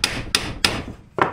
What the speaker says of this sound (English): Let's beat her with a hammer and see what happens.